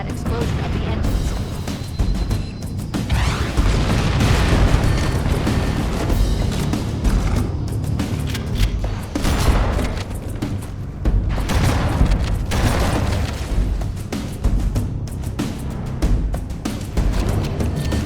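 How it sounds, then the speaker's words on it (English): Reactor engines explode in the Halo: Combat Evolved Anniversary video game, a long stretch of loud, dense booming blasts and rumbling bursts that rise and fall in waves over about eighteen seconds, with no talk. "That should be enough to trigger a wildcat explosion of the engines."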